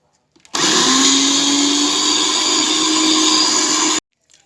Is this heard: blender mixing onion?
yes